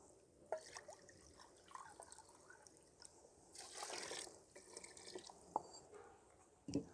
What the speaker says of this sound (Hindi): अब यहाँ पे 2 लीटर के करीब मैं इसमें पानी शामिल करूँगी